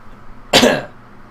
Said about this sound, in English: Just needed to clear my throat